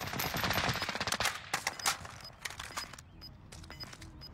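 Dense rapid gunfire in the battle royale game Warzone, near and loud at first, then breaking into scattered shorter bursts and single shots that thin out.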